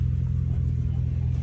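A steady, deep Honda K24 engine idle in a Nissan D21 truck rumbles on without pause, a low continuous drone with no voices over it.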